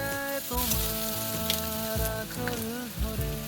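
Chopped medium-size onion sizzles steadily in hot oil in a pan for a few seconds, the frying hiss continuous under tuneful background music.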